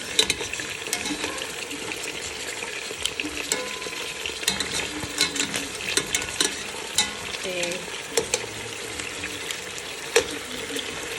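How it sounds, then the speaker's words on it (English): Chicken browning in hot oil for jollof rice stew, a soft continuous sizzle with scattered crackles and pops, close by and fairly quiet, with occasional faint stirring. "That sizzle right there, that's what you're looking for."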